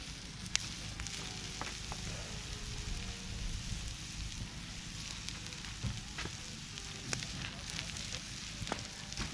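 Onions and garlic fry in a pan over a campfire for jaegerschnitzel, giving a steady close sizzle with scattered pops and crackles and occasional scraping stirs.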